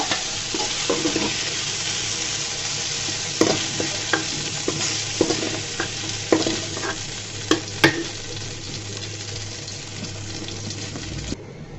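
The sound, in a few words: okra frying and being stirred in oil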